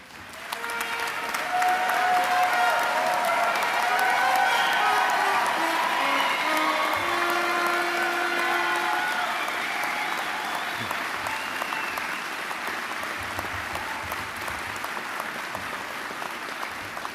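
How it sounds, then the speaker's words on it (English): A graduation audience at a university convocation applauds steadily, dense clapping filling the hall for over fifteen seconds, with a few tones from music or voices faintly beneath in the first half. "we applaud each and every one of you that crossed the platform"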